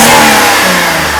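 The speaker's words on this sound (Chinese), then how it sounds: "我们的 M104的引擎就是吞吐量也特别大，然后呢，它的高速呢，特别顺畅，也就是说加速特别快。" A Mercedes R129 300SL with the M104 engine revs hard on a test after repair. The roar is loud and close, with no speech.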